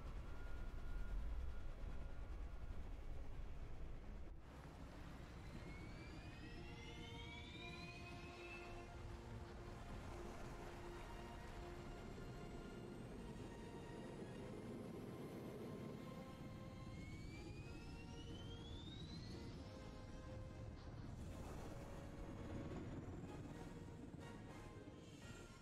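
A deep, steady jet-like roar fills the scene as a massive helicarrier lifts off in the video game Lego Marvel Avengers, with rising whines sweeping upward over the rumble.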